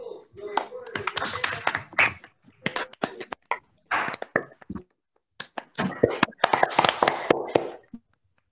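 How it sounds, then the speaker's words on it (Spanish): Scattered applause through open microphones during a student United Nations model conference opening, uneven claps and taps from several people, loud and close, with gaps between bursts. "pedimos que abran sus micrófonos y den un fuerte aplauso"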